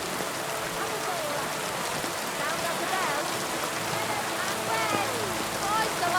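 Steady rain patters on the ground in Kingdom Come Deliverance 2, a dense, even hiss of drops with faint background tones running beneath it, continuous throughout.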